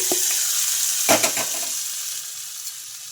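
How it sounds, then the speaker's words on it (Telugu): A hot tempering of spices with asafoetida is poured into chutney with a sudden sharp sizzle and crackle that quickly fades into a soft, steady hiss. "ఇంకా ఈ పోపు అయితే చట్నీలో అయితే వేసుకుంటున్నాను"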